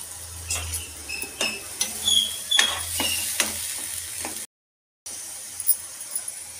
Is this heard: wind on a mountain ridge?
no